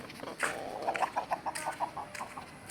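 Arabi chickens give a quick run of soft, rhythmic clucks, about eight in a row, faint and a little distant, as they run toward feed.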